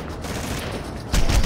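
Burst weapon fire in the video game Red Faction 2, a dense, continuous rattle of shots that grows louder and heavier near the end, with no talking over it.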